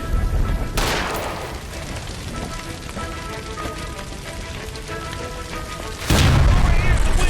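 A gas line blows up inside a burning electroplating building in the L.A. Noire video game, with a sharp broadband blast, a roaring rushing din, then a second loud burst near the end.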